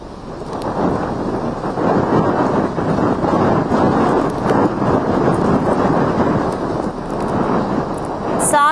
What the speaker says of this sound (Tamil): சூறை காற்று.